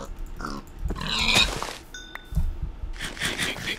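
Minecraft pig in a hardcore survival game, short grunting oinks alongside clinking and breaking effects, close and fairly loud with no talk over it.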